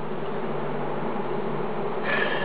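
Honey bees of the Macedonian strain buzz in a dense, continuous drone around an opened hive, close and steady throughout.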